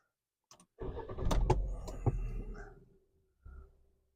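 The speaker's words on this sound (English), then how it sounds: "We'll drive the Fiat back over onto it" A Fiat car rolls onto a car lift, a short mechanical clunk followed by a rising engine rumble and rattling over about two seconds, then a brief softer thump after a pause.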